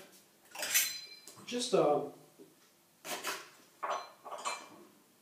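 A kitchen knife cuts a small piece of ginger on a board, making a few sharp, close knocks and clinks among utensil sounds, with a person talking over it.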